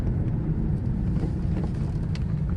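A 2002 Ford Thunderbird Premium driving on the road gives a steady low engine and road rumble throughout, loud and continuous, with no talking.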